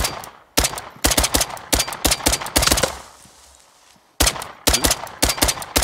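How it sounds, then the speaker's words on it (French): Enemy gunfire in a video game, aimed at the players: rapid, loud bursts of repeated shots close by, broken by a brief quieter gap before another burst. "t'as vu qu'il nous tire dessus?"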